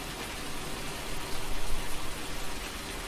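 Rain falls steadily in Landwirtschafts-Simulator 19, a constant broadband hiss with soft patter that swells slightly midway, moderately loud and unbroken.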